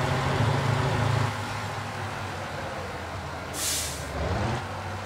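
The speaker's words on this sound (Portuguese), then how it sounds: "eu vou ter que frear pra fazer essa curva" A loaded truck in the Motor Town driving game brakes for a curve after a fast downhill run, with a low engine drone, a burst of hissing air-brake release and continuous rolling noise.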